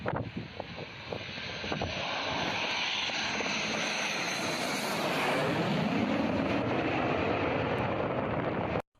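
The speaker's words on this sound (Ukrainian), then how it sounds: "за наказом самопроголошеного президента Лукашенка для супроводу літака в небо підняли винищувач" A military fighter jet engine roars as a broad, loud, sustained rush that swells and shifts in pitch, buffeted by wind noise on the microphone, then stops abruptly.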